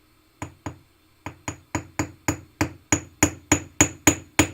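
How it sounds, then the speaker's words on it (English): A riveting hammer strikes wire directly on a ring, splaying it out: about fourteen sharp metallic taps in a steady rhythm, close and growing louder, with no talk. "we're going to hammer directly on it"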